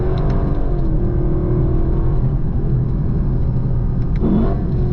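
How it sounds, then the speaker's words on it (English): A Lexus LC 500 sports car engine revs hard and loud close by, a sustained throaty roar that rises and holds without a break. "And that engine, it sounds so good."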